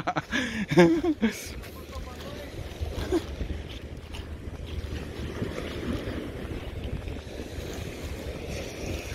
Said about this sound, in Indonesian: ombaknya lagi pasang nih guys, dikit-dikit